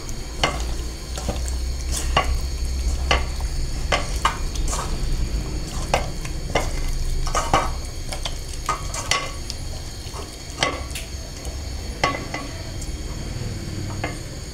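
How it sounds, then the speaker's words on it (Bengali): Spiced meat goes into a hot pan and begins to cook with a steady sizzle, while a spoon stirs and scrapes the metal in sharp, repeated clicks throughout. "এখন মাংস বসিয়ে দিই। মাংস রান্না করবো, মশলা দিয়ে নিয়েছি"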